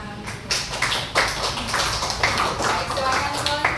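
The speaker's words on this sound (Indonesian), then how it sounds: "Oke, Chloe, kita tepuk tangan dulu." Students in a classroom clap for a classmate, a brief uneven round of hands with a few sharper claps standing out, moderately loud.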